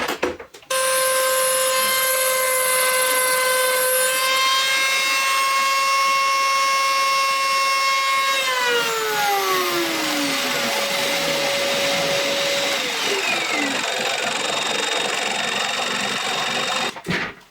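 A wooden homemade 3D milling machine cutting a workpiece gives a steady loud motor whine with strong resonant tones that shift pitch and glide downward midway, running continuously for about sixteen seconds before stopping abruptly.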